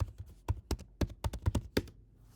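A computer keyboard being typed on at close range, a brisk irregular run of about a dozen crisp clacky keystrokes that trail off into quiet, no speech.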